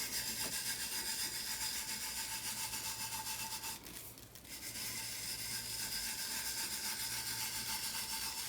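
A tumbler is burnished by hand, making a soft, steady rubbing and brushing sound that continues throughout, with a brief dip partway through.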